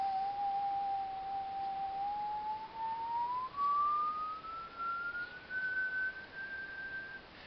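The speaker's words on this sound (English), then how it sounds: "So if I whistle" One person whistles a single pure sustained tone that glides slowly and smoothly upward in pitch, alone over faint background hiss.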